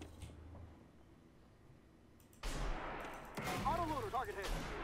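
A tank gun firing in the video game Armored Warfare, a sudden heavy boom partway through followed by a second blast and rumbling battle noise, with a voice talking faintly over it.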